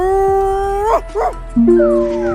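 A person's voice imitates a dog, producing close, loud drawn-out howls and a few rising and falling yelping whimpers in quick succession.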